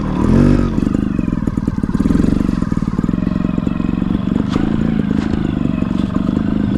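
Gas Gas 300 trials motorcycle idling along in second gear, its two-stroke engine putting out a steady, close, throbbing drone with brief swells of throttle and light mechanical clatter throughout.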